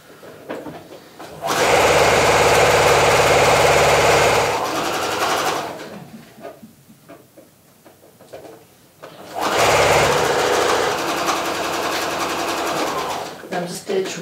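A sewing machine stitches a seam on a fabric nursing cover in two long, steady bursts of loud, even whirring, with a quieter stretch of handling noise and soft talk between them.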